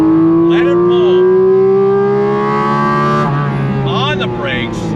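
A Porsche 718 Cayman GT4 RS engine pulls hard in third gear from around 5,000 rpm, its loud harmonic howl rising steadily, with a brief dip near the end as the car shifts or lifts, heard from inside the cabin.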